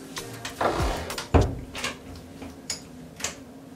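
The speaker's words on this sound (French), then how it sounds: "je commence à fermer la porte" A bathroom door being closed: a wooden thud and latch click, followed by several lighter knocks and clicks from the door and nearby fittings in a small room.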